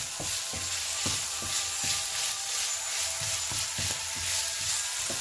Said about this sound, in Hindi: अच्छी तरह इसको थोड़ा सा हम इसे भूनेंगे।